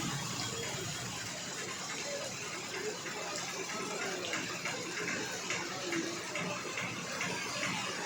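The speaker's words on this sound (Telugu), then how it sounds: "అంత పెద్ద వర్షం పడుతుంది, వర్షం, భారీ వర్షం" Heavy rain pours down steadily in Guntur, with water rushing along the road in a dense, constant wash of noise.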